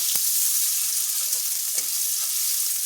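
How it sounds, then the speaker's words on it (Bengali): Chopped onions fry in a pan for a Bengali rui posto fish dish, giving a steady, even sizzle that holds at one level throughout with no voices. "এই পেঁয়াজটাকে এবার আমি একটু লাল লাল করে ভাজবো"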